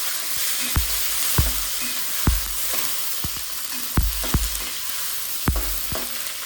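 Tofu cubes frying in hot oil for a stir-fry of long beans with fried tofu and tempeh, a steady close sizzle broken by several sharp pops and crackles spaced a second or so apart, with no voices.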